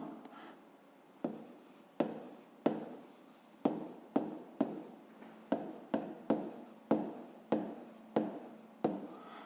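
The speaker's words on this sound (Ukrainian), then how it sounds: "Ну і записуємо нехай." Pen or pencil writing by hand on paper while working a fifth-grade maths exercise, a series of close, quiet scratchy strokes with short pauses between them, no talking.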